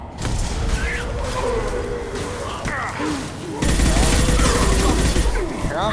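Gunfire in the video game Mass Effect 2, a steady stream of shots and mechanical clatter running through the whole stretch, with a louder burst later on and game voices talking over the combat.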